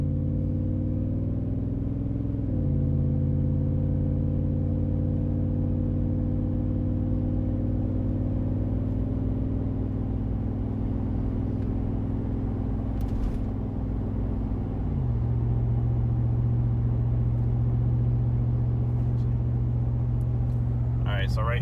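Steady engine drone from a Toyota/Lexus GX470 V8 with the muffler deleted, accelerating gently up a slight hill, its pitch climbing through the gears with a shift near the end, loud and continuous throughout.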